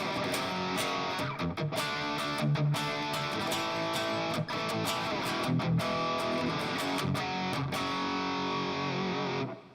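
Electric guitar with Fishman Fluence pickups rings out through a Headrush air reverb set to an ambient sound, sustained distorted chords and notes washing together for nearly ten seconds with no talking.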